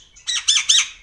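A pet myna bird lets out three harsh, loud squawks in quick succession, close to the microphone, with no speech.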